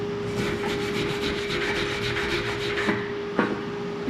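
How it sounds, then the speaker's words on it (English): The back of a 6010 welding electrode scraping along steel between passes on a flat fillet weld, making a continuous close gritty rasp that ends in a couple of sharper scrapes. "We're gonna take the back of our electrode, just gonna scrape it right along that material."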